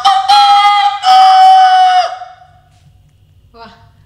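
A man imitates a rooster's dawn crow, a loud, close, strained call in two sustained bursts that fade out, followed by a brief quieter sound.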